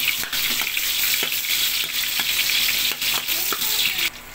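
Onions sautéing in a pan while calderetang baka is being cooked, giving a steady close sizzle and frying hiss with light stirring clinks throughout.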